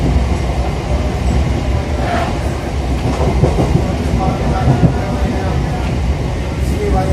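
A passenger train runs on the Katwa to Ahmedpur line, heard from inside a carriage as a loud, continuous rumble and rhythmic wheel clatter, with voices murmuring underneath.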